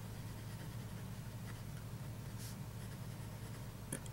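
Fountain pen fitted with an IPG fine nib writing on paper, a soft continuous scratching heard close up and alone over a steady low hum.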